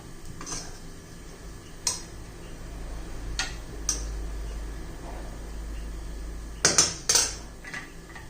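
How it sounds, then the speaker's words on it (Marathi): Sabudana khichdi is spooned from a pan onto a plate, with sparse clicks and taps of a utensil against metal and a cluster of louder scrapes near the end over a quiet background. "हे पहा मोकळी सुटसुटीत अशी खिचडी एका प्लेटमध्ये काढून घेऊया"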